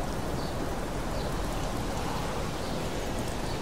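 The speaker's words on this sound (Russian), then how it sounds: "Площадь опустела, потому что ливень хлестал холодными упругими струями." Steady downpour drenching a town square in a video game, a dense, even hiss of heavy rain that holds unbroken and close throughout, with no voices.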